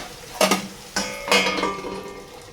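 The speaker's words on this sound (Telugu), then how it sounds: "మళ్ళీ ఒకసారి మూత అనేది పెట్టేసుకుందాం మనం" A metal lid set onto a cooking pot of chicken masala, with two or three clanking knocks and scraping contact, close and fairly loud, no voices.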